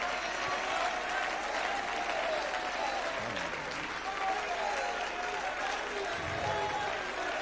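Church congregation applauding in praise during a bilingual English and French sermon, dense sustained clapping that fills the room, with crowd voices mixed underneath.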